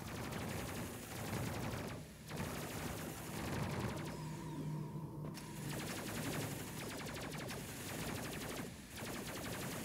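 Spaceship cannons in Space Crew fire in rapid, dense volleys of mechanical shots, an almost continuous burst with brief pauses between salvos, heard alongside a low engine drone.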